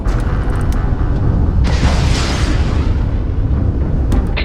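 An enemy starship blowing apart after a missile hit in the space game Starfield, a loud roaring blast that swells midway and fades into a lingering rumble over steady engine noise.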